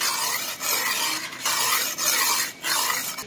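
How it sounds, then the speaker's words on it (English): A chipped sickle blade is sharpened by hand with an oval sharpening stone, giving steady rasping strokes of stone on steel in a repeated rhythm with brief pauses, close and moderately loud, no voices. "Sharpening at an angle of around 15 degrees."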